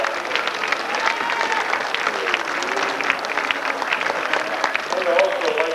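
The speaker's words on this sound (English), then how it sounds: "let's give all the contestants tonight a good round of applause." An audience applauds the contestants at a 1988 Americanism speech competition at Army Navy Academy, a continuous, fairly loud roar of clapping from a sizeable crowd with faint voices mixed in.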